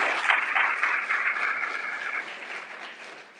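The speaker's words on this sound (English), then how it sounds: "We can give her a round of applause." An audience at a memorial service gives a round of applause, a dense wash of clapping that holds for about three seconds before gradually tapering off.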